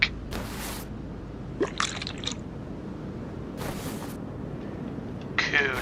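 Brake fluid draining in the Car Mechanic Simulator 2021 game comes as short liquid gushes and squishy pours, three or four separate bursts over a low steady hum, fairly quiet.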